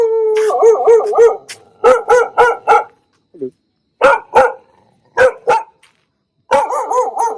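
A dog close by gives a series of loud barks broken by long wavering howls, with short quiet pauses between bursts.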